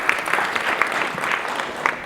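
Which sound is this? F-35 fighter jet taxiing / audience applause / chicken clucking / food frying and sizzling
audience applause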